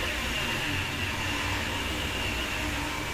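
Eurostar Class 373 high-speed train running uphill in Train Sim World 2, a steady broadband rumble and rail hiss with a faint whine, continuous and even throughout with no voices.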